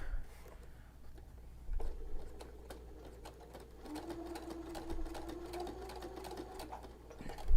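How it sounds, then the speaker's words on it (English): A home sewing machine stitches along a fabric edge with a steady mechanical whir and rapid needle ticking, starting after a pause and running continuously, close and moderately loud, with a few small clicks. "now we are ready to actually sew"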